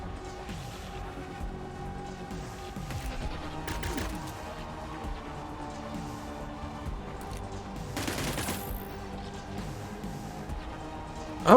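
Gunfire in the video game Cyber Knights: Flashpoint, bursts of rapid shots and mechanical clatter running through a busy layered game soundtrack, with a sharp hit right at the end.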